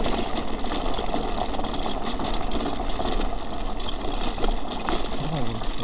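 A MiniPro C3 800W electric minibike rides over a rough, uneven road, giving a steady mechanical whir with rattles and bumps throughout, heard close and continuous.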